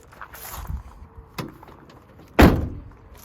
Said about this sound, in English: We'll try it with the other door shut as well,